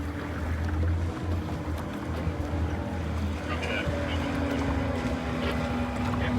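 A panga motorboat runs fast on open water with a steady loud engine drone and rushing hull and wave noise throughout.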